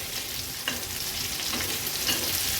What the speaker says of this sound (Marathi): हाय फ्लेमवर अर्ध्या मिनिटासाठी ह्या मिरच्या अशाच ठेवायच्या आहेत आपल्याला